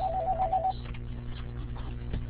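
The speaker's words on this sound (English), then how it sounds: "Our phone that keeps ringing here." A telephone rings with a short pulsed electronic tone near the start, then fades into room background with no talk.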